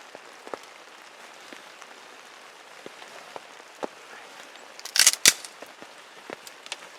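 Rain falls in the Jessup River wilderness, heard as scattered drops tapping close by on a soft hiss, with a few sharper clustered taps near the middle.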